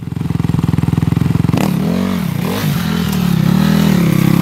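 A dirt bike engine chugs steadily and then revs up loud and close as the bike hops over a log, with a scrape and clatter of tires and suspension striking the wood.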